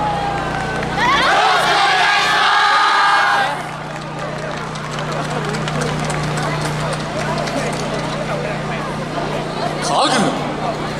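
A crowd cheers before a kagura dance performance at an evening festival, with a brief loud burst of whistles and shouts early on that fades into murmuring crowd noise, then a short rise near the end.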